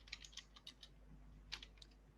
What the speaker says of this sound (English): if I am typing the command ping and typing the www.google.com